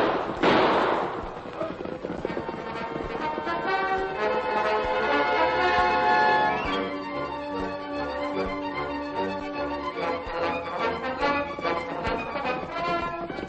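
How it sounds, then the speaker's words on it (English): A sharp burst of gunfire from riders in an old-time Lone Ranger radio western, heard at the very start before orchestral music swells and carries on to the end. "Use your gun, Tonto, but shoot over their heads"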